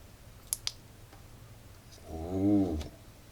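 Two quick, crisp clicks of a small metal AliExpress keychain flashlight's button close by, followed by a brief murmured voice.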